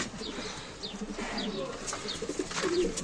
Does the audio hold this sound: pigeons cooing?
yes